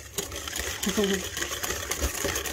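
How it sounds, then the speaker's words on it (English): A metal whisk stirs custard in a pot, a fairly steady scraping, rattling rhythm with a few louder knocks, close and moderately loud. "so stir stir stir so look how I hold my whisk"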